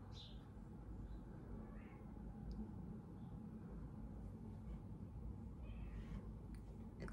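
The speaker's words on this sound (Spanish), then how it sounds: "¿Escucháis la gata?" A few faint, distant meows from a female cat rise over a steady low hum of background noise, spaced apart and fairly quiet.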